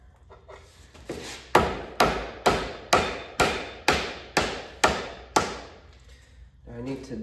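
A steel pin is hammered into an excavator thumb, about ten sharp, evenly spaced metallic blows ringing out close and loud, with a quieter tap before them and a faint voice afterward.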